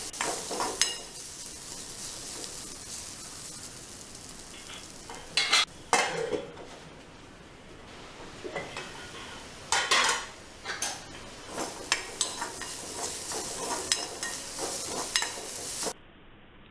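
Carrot poriyal being stirred in a covered pan, a spoon scraping and clinking against the metal in irregular bursts over a soft, steady sizzle, with no talking.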